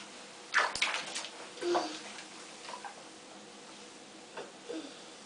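A child splashes water in a bathtub at bath time: a few short, quiet splashes and sloshes separated by pauses, heard up close in a small room.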